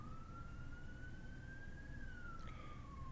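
A police siren passing by outdoors, a single wailing tone that slowly rises and then falls, heard faintly at a distance over steady background noise.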